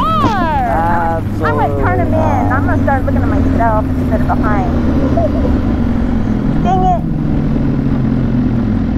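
Kawasaki ZX6R motorcycle pulling up with a steady engine drone, its pitch sliding down and then rising near the end, heard under a rider's loud voice talking for the first half.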